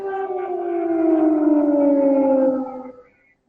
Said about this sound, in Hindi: ये 5वां सायरन